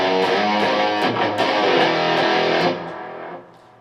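Electric guitar through fuzz distortion imitating a synth bass plays a gritty, buzzy riff of repeated notes with sharp picked attacks, loud and alone, then fades as the last note decays.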